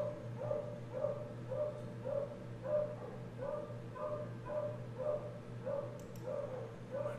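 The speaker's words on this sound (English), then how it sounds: "Puppies, they're so crazy." Puppies barking with quick, faint yips that repeat in a steady rhythm about twice a second, distant and low in level over a soft background hum.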